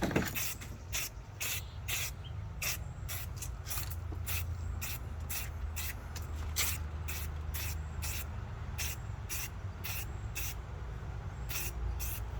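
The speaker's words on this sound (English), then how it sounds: "Shake the can a little bit more to mix the stuff around. And then I do another kind of medium coat here." Aerosol spray paint can laying down a medium coat, heard as a steady hiss broken into a rapid run of short regular bursts from close by, with no talking.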